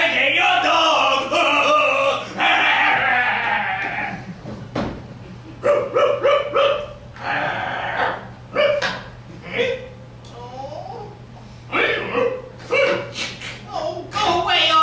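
A cartoon dog lets out a string of short, sharp barks and yips in rapid bursts between lines of lively character dialogue, with a steady low hum underneath.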